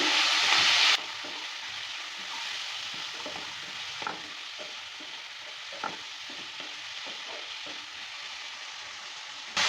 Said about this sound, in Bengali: লবণ হলুদটা দেওয়ার পর ভালো করে নেড়ে চেড়ে নিচ্ছি